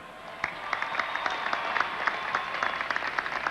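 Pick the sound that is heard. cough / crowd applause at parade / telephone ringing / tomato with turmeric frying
crowd applause at parade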